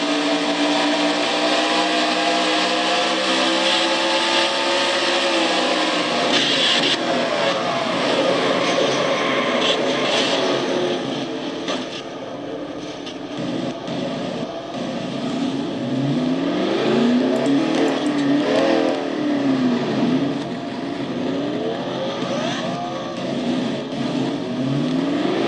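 A car 68 race car's engine, driven by Sasha Dawson in a Castrol GTX Cup Series race at the AC Delco 400, cranks and revs in loud, uneven surges that sag and falter, with track noise throughout.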